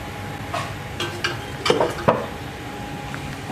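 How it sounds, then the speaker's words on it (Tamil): Prawns shallow-fry in a little oil in a pan, giving a steady close sizzle with several scraping stirs and light utensil clinks clustered in the middle. "இப்போ நம்ம போய் இதை ஃப்ரை பண்ண போகிறோம்."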